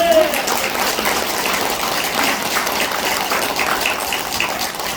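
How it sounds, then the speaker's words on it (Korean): Congregation clapping during a Korean sermon at a mission gathering, a steady, dense wash of applause that holds evenly throughout with no talk over it. "박수 한번 쳐주세요."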